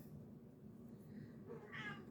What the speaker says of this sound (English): you hear kitty cats here